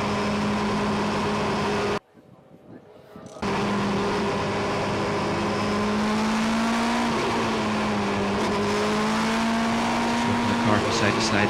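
Race cars on the grid at a Kirkistown NI Sevens Challenge race weaving side to side to warm their tyres: steady engine whine with wavering pitch, a brief dropout, then the drone resumes under a commentator's voice.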